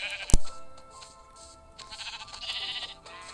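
Sheep bleat in Minecraft in two wavering calls, one early and one later, loud and close, with a sharp click just before the first and no talk over them.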